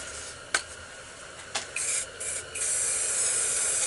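Short bursts of purple spray paint misting from an aerosol can onto spray paint art: two quick sharp hisses, then longer sustained sprays, close and alone.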